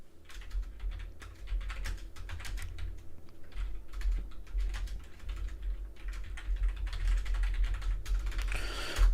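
Rapid clicking of a computer keyboard being typed on, close and continuous in quick bursts, over a low background hum.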